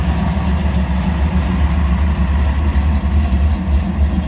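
A 1967 Plymouth Belvedere two-door hardtop with electronic ignition idles close by, a steady, loud, low engine rumble with an even throb and no voices.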